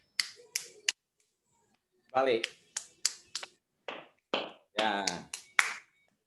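Sharp hand slaps and claps ring out in short bursts during a chi kung exercise, mixed in with a person speaking briefly between them.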